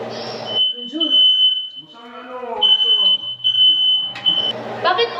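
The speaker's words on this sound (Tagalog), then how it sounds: "smoke detector yun" An apartment smoke detector set off by cooking steam shrills with a high, steady piercing tone that cuts in and out, while people talk and shout over it.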